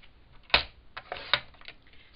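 Paper for a planner notebook being cut, with two sharp, close snips or chops standing out and a few fainter cutting clicks between them in a quiet room.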